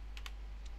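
A few quick, faint keystrokes on a computer keyboard as a command is typed, three soft clicks over a low background hum.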